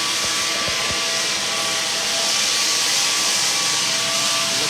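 A floor sander refinishing a damaged wood floor roars loudly and steadily, a dense unbroken grinding drone filling the room from start to finish.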